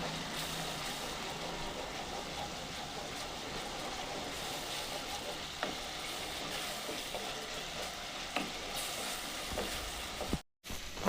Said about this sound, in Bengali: এই দেখুন আমার মশলা থেকে আস্তে আস্তে করে তেল ছাড়ছে প্রায় মশলাটা কষা হয়ে আসছে